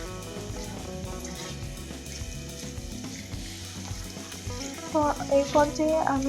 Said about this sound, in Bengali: ডালটার সাথে এখন আলু, টমেটো সব কিছু ভালো করে কষিয়ে নেব।